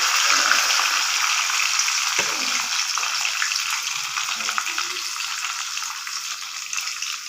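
Onions with salt sautéing in a hot pan for Tamil vada curry, following fennel, cloves, bay leaf and curry leaves; a steady, loud, close sizzle runs unbroken, with faint scraping now and then.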